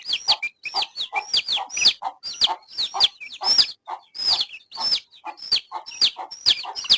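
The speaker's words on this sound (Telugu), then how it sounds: "ఆరు పిల్లలు ఉన్నాయి ఇందులో పుంజు ఎన్ని అయిద్దో పెట్ట ఎన్ని అయిదో తెలీదు" Native country hens and young chicks being raised for meat, a busy run of rapid high chirps and peeps mixed with short clucks, close and lively, repeating in quick bursts without any talking.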